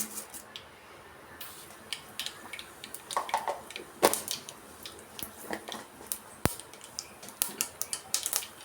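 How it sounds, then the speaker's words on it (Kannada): Mustard seeds splutter in hot oil for tempering, giving scattered sharp pops and crackles of uneven rhythm over a quiet background, with no talking. "ಸಾಸಿವೆನ ಸ್ವಲ್ಪ ಸಿಡಿಲಿ"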